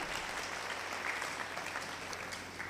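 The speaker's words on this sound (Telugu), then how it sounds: "గట్టిగా చప్పట్లు కొట్టండి" A congregation at a church gathering claps loudly in a dense, continuous roar of applause that holds steady from start to finish.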